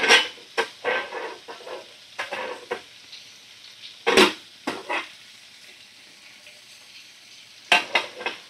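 Papaya posto sizzles and fries in a pan while a spoon stirs it in irregular bursts of scraping, with quieter sizzling gaps between strokes.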